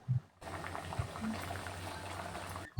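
Dal (lentils) boiling in a pot, with a steady bubbling simmer running through the whole stretch, close and moderately loud, with a few soft knocks near the start and end.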